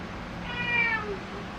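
A male cat meows once inside a greenhouse, a single drawn-out, fairly quiet call heard close by over faint background hiss with no talking.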